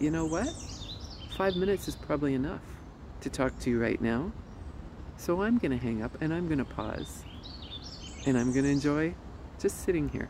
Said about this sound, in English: I hope you can hear the birds around me right now.